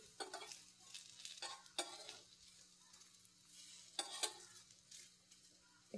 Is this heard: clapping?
no